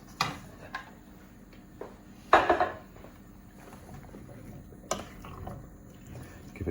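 Beans being stirred into a cooking pot, with a few scattered wooden and metallic knocks, a brief wet scraping swirl in the middle, and soft clinks against the pot at a close, quiet level.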